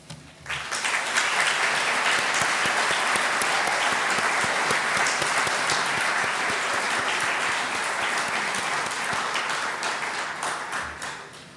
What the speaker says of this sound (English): let's take a moment to applaud our individual nominees in the 2022 Volunteering Awards for the Canberra region